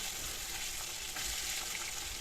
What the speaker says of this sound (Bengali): বাকি মাছগুলো তেলের মধ্যে দেওয়ার পরে এভাবে হালকা করে উল্টে পাল্টে আমি মাছগুলোকে ভেজে নিচ্ছি।